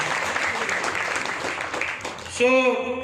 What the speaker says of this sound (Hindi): एक बार आप लोगों के लिए जोरदार तालियां बजवाना चाहूंगा आपसे